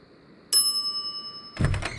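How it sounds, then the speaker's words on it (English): A service bell on a shop counter in The Secret of Monkey Island gives a single bright, ringing ding that lingers and fades, followed by a dull knock. "some idiot's already ringing that stupid bell"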